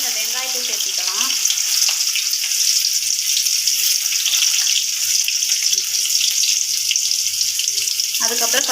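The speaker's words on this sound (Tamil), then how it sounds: "கடுகு நல்லா பொரியட்டும்" Mustard seeds spluttering in hot oil for a fish curry, a steady dense sizzle and crackle that runs close and loud throughout, with brief quiet voice at the start and end.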